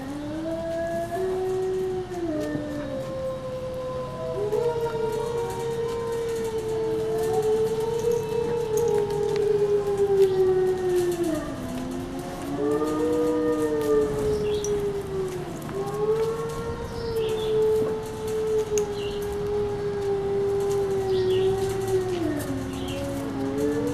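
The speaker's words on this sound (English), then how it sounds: "The adults are howling, but Luna's not responding." Adult wolves howl together in a long, overlapping chorus of sliding, wavering tones that rise and fall, sustained and fairly close, with no talking.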